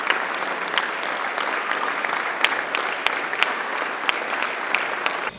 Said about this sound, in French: une minute d'applaudissements pour le handball et le match qui opposait Gravelines à Livry-Gargan